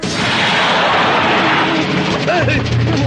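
A loud, roaring car bomb blast rumbles continuously and fills the space, with a raised voice breaking through near the end.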